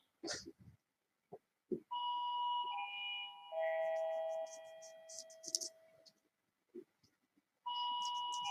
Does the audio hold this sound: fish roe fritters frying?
no